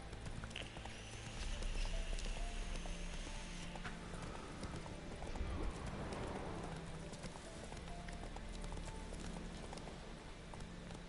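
Horse hooves clip-clop steadily as Roach, Geralt's horse in the video game The Witcher 3, trots along, a rhythmic patter set against continuous ambient background noise at moderate loudness.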